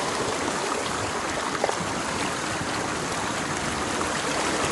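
A river flows steadily nearby as a broad, continuous rushing wash of water, loud and unbroken throughout, with no voices.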